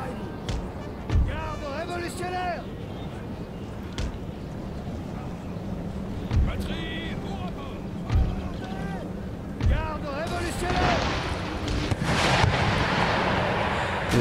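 Booming artillery blasts and gunshots thud at irregular intervals in an 1815 Napoleonic-era strategy game battle, mixed with game sound effects and a voice talking over the battle.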